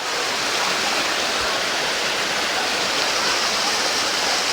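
A waterfall in Racha's misty mountains rushes in a constant, loud, broadband roar without pause, with no voices present.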